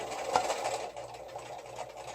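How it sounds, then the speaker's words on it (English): A sewing machine stitches surgical mask fabric with a steady, close mechanical whir and low rhythmic motor hum, continuous for a couple of seconds with no talking. "So I'm sewing right up to where the elastic is."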